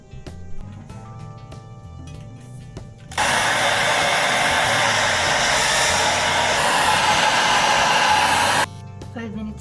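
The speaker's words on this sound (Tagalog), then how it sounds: "Look. Hair dryer." A handheld hair dryer switches on and blows loud and steady for about five seconds, then cuts off, with quieter indoor sounds before and after.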